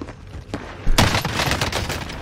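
Gunfire in Call of Duty Warzone, with shotguns in play: a quiet lead-in, then a sudden loud blast followed by rapid overlapping shots and echoing reports, heard without talking.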